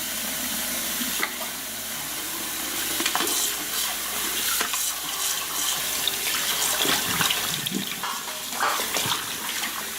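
Cold tap water runs steadily over thin, center-cut boneless pork chops in a kitchen sink, a continuous close splashing hiss with small shifts in the flow and no talk.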